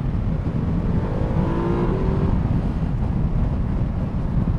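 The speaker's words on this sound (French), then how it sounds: "Mais il chante bien le moteur." A Ducati Multistrada 1260 S motorcycle engine roars steadily close by, its low rumble swelling briefly as it revs, with a rising whine in the middle.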